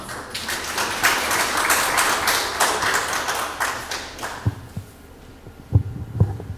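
Workshop audience at a low-field MRI event clapping for participants, a dense run of hand claps that thins out and ends, followed by a few isolated thumps.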